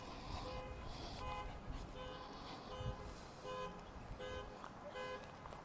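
Outdoors, a car alarm repeats its patterned tones over a low rumble of passing traffic, fairly faint and steady, with short bursts of honking mixed in.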